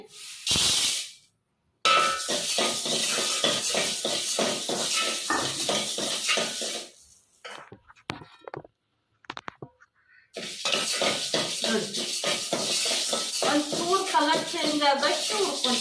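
Moong beans dry roasting in a pan, with a soft hissing rattle and repeated stirring scrapes, interrupted by brief silences and heard beneath someone speaking.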